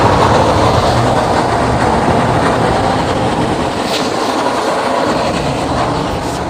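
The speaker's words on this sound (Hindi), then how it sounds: "इसकी आवाज़ सुन के आपको पता चलेगा कि कितना तगड़ा फ्लो है इसका" Refrigerant gas rushes out during an air-conditioner service, a strong, steady, close hiss that stays loud and unbroken throughout with no voices.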